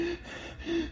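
A storyteller mimics panting with two short breathy gasps, one at the start and one near the end, close and fairly quiet with no words spoken.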